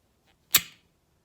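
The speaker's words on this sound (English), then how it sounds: "so we heard that like suction sound" A syringe pulled off a rubber stopper gives a single short, sharp suction pop, close and clear, followed by quiet.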